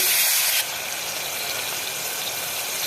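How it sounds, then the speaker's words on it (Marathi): Water poured into a hot pan of fried green chillies, garlic and turmeric for pithla, a loud hissing burst that drops after half a second to a steady simmering rush. "आता टाकायचं पाणी"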